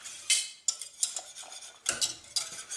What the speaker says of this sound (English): Keep stirring, you don't want the soup to burn.